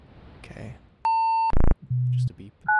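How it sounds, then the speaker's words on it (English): Several short electronic beeps in quick succession, at differing pitches, with a faint voice at the start. "Just a beep."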